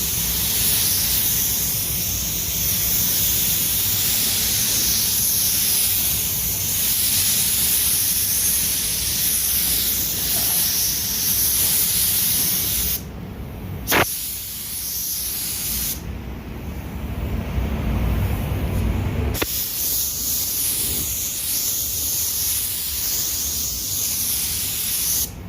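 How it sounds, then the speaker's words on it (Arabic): Spray gun laying clear coat varnish onto a car bumper: a loud, continuous close hiss that runs almost throughout, broken by a couple of short pauses where the trigger is released before spraying resumes. "هي الورنيشه دي بتترش كده اهو، تقفيل من اول وش."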